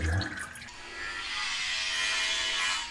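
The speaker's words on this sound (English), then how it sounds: "Ah, we've got oil coming out." Oil and water draining out of a drain plug on a John Deere tractor during a suspected clutch-plate failure, a steady hissing trickle that swells and holds on, close and fairly loud.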